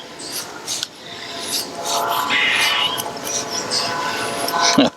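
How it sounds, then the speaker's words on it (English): A flat-ground Spyderco Manix 2 Maxamet knife blade shaves curls from a piece of poplar wood, giving a close, continuous rasping scrape that rises and falls with each stroke, ending in a sharper scuff. "How about a little poplar? Just some shavings."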